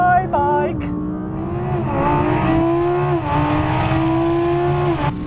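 Audi car accelerating hard off the line at the start of a drag race against an R8, RS6, RS3, S1, RS2 and a Ducati bike, a loud engine revving up through several gear shifts, heard from inside the car.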